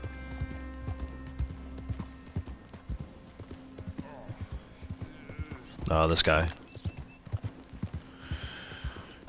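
Horse hooves clip-clop in steady repeated beats in the video game Red Dead Online, with a horse whinny bursting out loud midway and someone talking over the hoofbeats.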